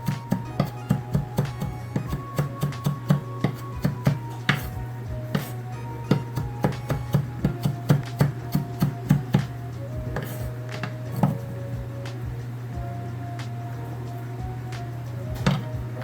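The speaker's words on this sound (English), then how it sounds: "We're also going to add one scallion, so I just cut the end up there, split it in half." A knife chops a scallion on a cutting board in a rapid run of crisp, close taps, then slows to scattered single cuts over a steady low hum.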